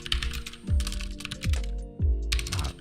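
Fast typing on a computer keyboard, a dense patter of key clicks in uneven bursts over a low background hum, close and moderately quiet.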